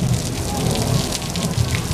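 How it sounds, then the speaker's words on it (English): Artificial rain pours from a sprinkler system during a studio storm effect on a movie backlot, a steady, loud hiss of water falling and spattering on surfaces with low rumbling underneath, with no voices. "This is how we make it rain in the movies, folks."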